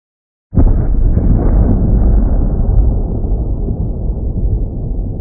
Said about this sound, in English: Did you just destroy Hawaii with a volcanic eruption?